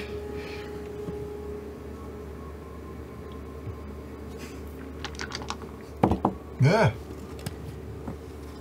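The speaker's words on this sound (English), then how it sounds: "Sounds like a dice." Dice rolling on a table during a tabletop role-playing game session: a couple of short, rattling clatters arrive close together late in the clip, over a quiet room hiss, with a brief spoken word nearby.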